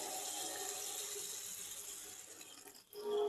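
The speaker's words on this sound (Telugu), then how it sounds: "ఇప్పుడు దీనిలో కొద్దిగా వాటర్ వేసుకోవాలి." Water is poured into a pan of fish curry with aubergine, a faint, continuous splashing stream that stops briefly before resuming.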